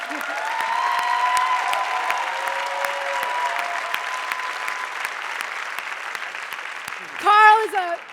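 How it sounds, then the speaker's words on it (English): An audience applauds steadily to welcome a speaker to the stage at a dialogue event on revolution and religion, a broad even clapping with a few whoops, ending as a voice begins speaking near the close. "He gets a pre-applause."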